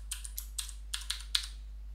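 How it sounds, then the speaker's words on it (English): Someone types a password on a computer keyboard, about eight quick, light key clicks in an uneven rhythm over a low steady hum, heard up close. "Type that password."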